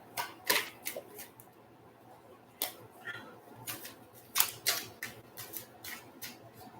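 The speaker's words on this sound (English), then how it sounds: "going to shuffle the cards. I'm going to reshuffle the cards" Playing cards are handled and shuffled nearby, with irregular crisp flicks and slaps in small clusters against a quiet room.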